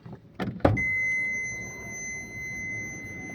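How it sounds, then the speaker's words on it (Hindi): An Alto K10 car door thuds open with the ignition off and the key removed, and a steady, continuous warning tone immediately starts and sounds on without a break. "गेट खोलते ही आपने देखा कि बीप आने लगी है।"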